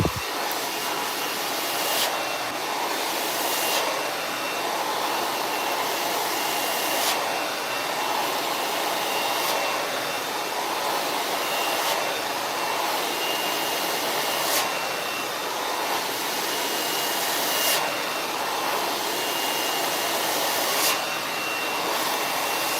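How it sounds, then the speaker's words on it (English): A hair dryer blows steadily on hair while it is styled into a quick weave bob, a loud continuous whoosh running without pause, with faint periodic clicks or shifts as the dryer moves. "I'm just gonna blow dry this part out"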